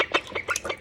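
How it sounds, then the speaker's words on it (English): A young pet duckling, recently abandoned by its mother, peeps repeatedly in quick close chirps, several high calls in a short burst with no one talking over them. "this duck requires constant attention"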